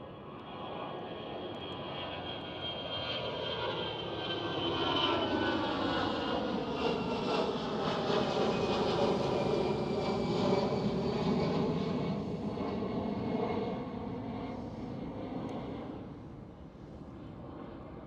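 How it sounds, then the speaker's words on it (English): An Airbus A320 departing Schiphol Airport in Amsterdam, operated by Aer Lingus, gives a steady, loud jet roar that swells and holds with a slowly shifting engine whine, then eases slightly toward the end, with no talk over it. "Airbus A320."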